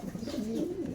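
A racing pigeon coos in a low, soft, rolling murmur that swells and dips over a second, fairly close and alone with no talk.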